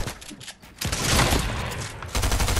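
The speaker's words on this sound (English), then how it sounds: "let me use my shotgun" Fortnite shotgun blasts: a few loud, close shots in quick succession over a couple of seconds, with a rough, booming tail between them.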